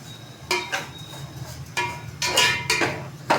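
Sugar being stirred into pumpkin halwa in a pot, with a spoon scraping and clinking against the metal in a run of uneven strokes, close up and fairly loud.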